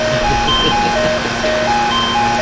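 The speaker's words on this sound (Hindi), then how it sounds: "ये मेरा अलार्म बना हुआ है" An alarm goes off loudly and close, a steady electronic tone pattern of repeating beeps and melodic pitched notes over a constant hum, continuous throughout with no speech.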